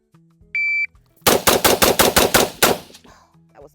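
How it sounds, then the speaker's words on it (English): A fast string of about eight loud, sharp shots from a semi-automatic rifle chambered in 5.56 during a timed shooting drill, preceded by a short electronic start beep and ending with a faint echo. "that was the very first shot"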